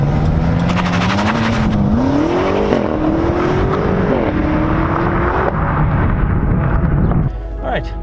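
BMW M5 Competition F90 with all-wheel drive and 460 kW making a launch-control start, the engine note climbing steadily through gears with brief shift dips, loud and close, ending in a lower settle.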